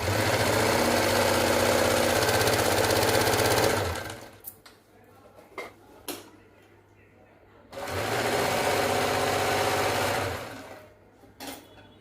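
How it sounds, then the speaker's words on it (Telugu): A sewing machine runs steadily with a regular stitching hum while sewing a fall onto a silk saree, in two long bursts with a pause between them that holds faint handling noises. "ఫాల్ నేను మామూలు కుట్టే వేస్తున్నాను"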